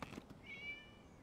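A single short cat meow in the video game Genshin Impact, a faint rising-and-falling whine in a quiet scene with soft ambient background.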